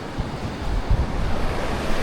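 Surf rolling onto the coast in Indonesia, a steady, full wash of waves with wind noise over the microphone and low thumps of breaking water, no voices.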